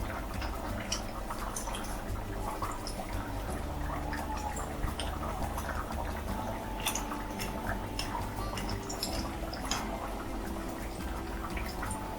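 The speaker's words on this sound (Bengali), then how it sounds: "মাছ ভাজাগুলো এতে দিয়ে দেবো।" Bhetki fish curry with potato and taro simmers steadily, a continuous close bubbling and gurgling with scattered small drips and pops as fried fish pieces go into the pot.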